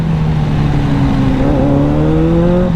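A KTM 790 Duke motorcycle accelerates hard into a power wheelie, its engine note climbing steadily in pitch over constant rushing wind noise.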